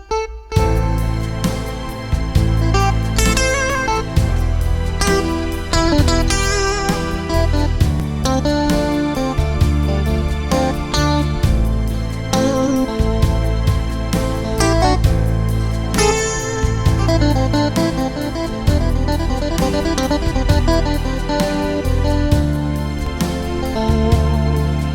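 Roland BK-7m arranger sound module playing its gold beat style: a full, continuous band accompaniment with steady drums, bass and layered instruments in a driving groove, with no talking.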